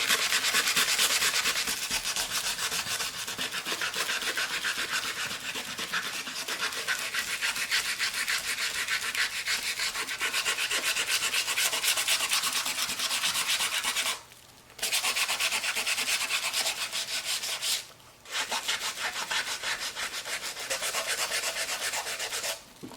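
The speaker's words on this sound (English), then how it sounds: "I'm going to bring some sandpaper into it and" Sandpaper rubs steadily over layered oil pastel, a close, continuous scratchy rasp that runs without a break except for two short pauses near the end.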